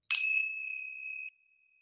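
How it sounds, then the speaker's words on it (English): Tibetan tingshas, a pair of small meditation cymbals, struck once and ringing with a bright, pure metallic tone that sustains evenly for about a second before cutting off, alone in a quiet room. "I will be chiming the tingshas. They sound just like this. They are a meditation instrument from Tibet."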